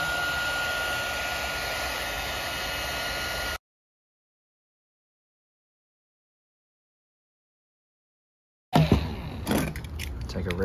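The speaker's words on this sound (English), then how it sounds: "take a heat gun, and you wanna heat up this expansion ring first" Heat gun warming a PEX expansion ring, a steady loud broadband blowing hiss for several seconds, then a cut to silence, then handling noise returning near the end.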